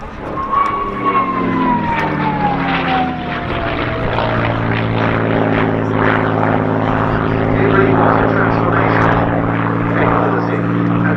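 A World War II combat aircraft flies past at an airshow, its propeller engine droning loud and steady throughout with a falling whine early on, while crowd noise and a voice carry faintly underneath.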